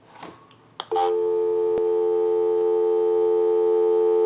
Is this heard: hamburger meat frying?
no